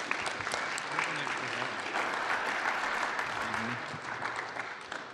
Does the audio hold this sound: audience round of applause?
yes